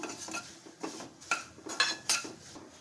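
Vermicelli (semiya) frying over a medium flame while being stirred in a metal pan, with a run of light clinks and scrapes from the utensil against the pan.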